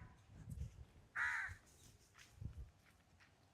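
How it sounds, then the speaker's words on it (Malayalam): A crow gives one loud, harsh caw nearby, followed by quieter rustling and shuffling sounds. "ഇതെന്താ നിർത്താത്ത കാക്ക?"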